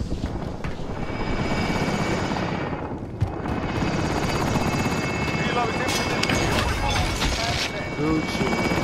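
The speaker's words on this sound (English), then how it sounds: "Alright, helicopter. Don't fail me now." A helicopter in the Call of Duty Warzone video game whirs loudly and continuously with rotor thrum, joined by scattered gunfire and some in-game noise.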